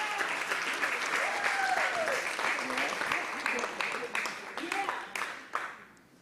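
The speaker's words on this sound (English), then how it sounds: "Give them a round of applause." An audience at a faith celebration gives a round of applause, dense and steady clapping for several seconds with scattered whoops and cheers over it, thinning out and fading toward the end.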